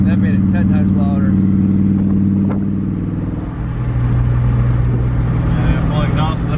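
A 6.0 S10 drag truck engine with its exhaust cutouts open runs close by, a loud, deep rumbling drone that dips briefly and then swells again, with people talking over it.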